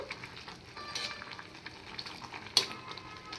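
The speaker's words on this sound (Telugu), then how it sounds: "క్యాబేజీ కొంచెం ఇలా ఉడుకుబట్టిన తర్వాత ఇలా కలబెట్టుకోవాలి అంటే అంతా కలిసేటట్టు" Cooked cabbage fry being stirred in a pan, soft sizzling with a few scraping strokes and one sharp clink of the spoon against the metal, close and fairly quiet.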